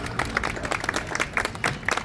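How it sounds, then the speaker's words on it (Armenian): An audience at an indoor gathering claps for a young woman, Yana. The applause is steady and moderately loud, with dense, overlapping claps throughout. "խնդրում եմ Յանային ծափահարեք մի հատ"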